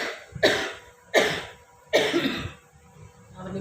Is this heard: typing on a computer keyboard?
no